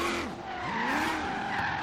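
A loud car exhaust roars and echoes off surrounding buildings while the car drifts, with tires squealing and the engine note rising and falling under constant throttle feathering.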